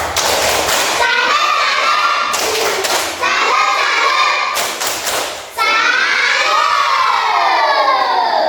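A classroom group claps out a rhythmic salute for a presenting team, with loud, close bursts of clapping and chanting voices in several rounds separated by short pauses.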